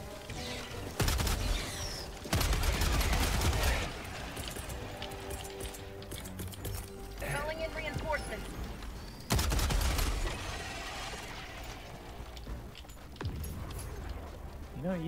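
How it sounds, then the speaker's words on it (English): Machine gun turret firing in the co-op video game Helldivers 2, sharp loud bursts of rapid gunfire in several separate volleys, with game sounds between them and a voice talking over parts of it. "I guess someone else brought a machine gun turret."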